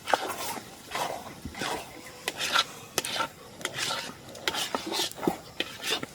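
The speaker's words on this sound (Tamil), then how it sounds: "நாங்கள் கிண்டி கொண்டிருக்கிறோம்" Thick Christmas dodol stirred in a pan, giving a continuous rough scraping and rubbing with occasional knocks of the spoon, close and moderately loud, with faint voices in the background.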